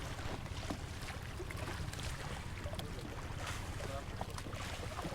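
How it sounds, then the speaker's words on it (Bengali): A trawler boat motors along a river near a swamp forest, its engine blending into a steady, faint wash of water and wind noise with no clear voices. "ট্রলারই তো গেছে।"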